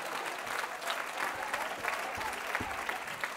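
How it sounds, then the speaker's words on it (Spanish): An audience at a stand-up comedy show applauds steadily, a dense, even patter of many hands heard from within the room with no speech over it. "con ese aplauso les doy la bienvenida"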